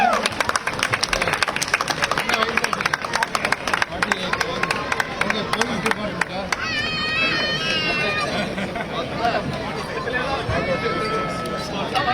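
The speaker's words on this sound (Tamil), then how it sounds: "ஒரு பலத்த கைத்தட்டல் கொடுத்துடலாம்" A crowd at a marathon prize ceremony claps for a finisher, producing a dense, steady patter of applause mixed with crowd chatter and an announcer speaking over it.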